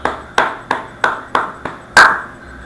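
Congregation at a church service clapping in unison, six sharp, evenly spaced claps in a slow steady rhythm, each ringing briefly in the room, the last one strongest.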